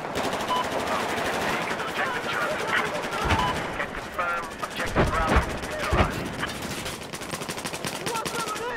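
Gunfire in the Battlefield 4 video game on the Pearl Market close-quarters map, continuous rapid machine-gun bursts with heavier shots near the middle, loud and dense throughout, with faint voices underneath.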